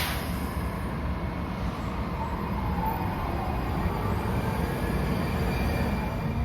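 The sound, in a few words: Metro Red Line train ride toward Shady Grove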